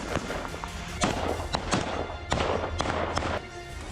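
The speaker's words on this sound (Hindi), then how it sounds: "उसके बाद ताबड़तोड़ फायरिंग की गई।" Heavy gunfire during an IDF raid on a militant: repeated sharp, loud bangs and thuds crack out irregularly over a constant rumbling background.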